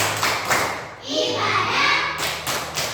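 Children in a classroom perform the 'tepuk senyum' clapping chant, mixing sharp hand claps and thumps with their chanted voices in a quick, uneven rhythm close by.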